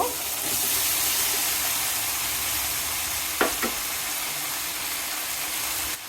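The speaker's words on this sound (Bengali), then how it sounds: "তেলও উঠেছে। এখন আমি কেটে রাখা কহিগুলো দিয়ে দিব।" Chopped snake gourd fries in hot oil with a loud, steady sizzle, broken by two quick clattering knocks midway, before the sound drops abruptly at the end, with no voices.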